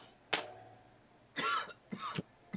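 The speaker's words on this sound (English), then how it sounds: "I recommend tea with honey and lemon for that cough." A person coughs several times: one sharp cough, then a couple of rougher, fuller coughs close together, fairly quiet and with no talking.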